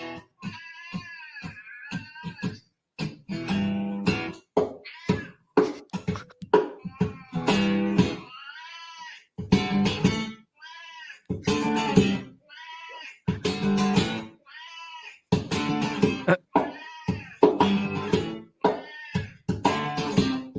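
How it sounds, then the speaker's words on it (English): A black cat yowls in a long series of drawn-out, tuneful meows, as if singing the blues. The calls come close and clear in uneven phrases, separated by short silences. "Maybe I could teach my cat to sing the blues like this dude."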